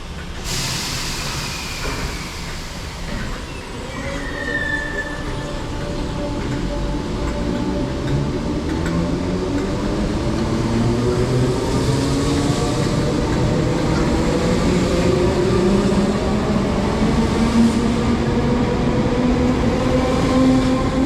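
A Merseyrail commuter train runs along the City Line, its steady rumbling roll building slightly in loudness, with long rising and falling motor whine tones and a brief squeal near the start, heard from onboard with no talk.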